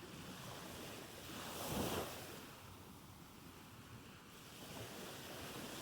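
Soothing ocean waves wash in a steady, continuous surf with one louder swell building and receding near the middle, set against a soft wind-like hiss, alone with no voices.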